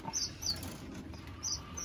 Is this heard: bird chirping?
yes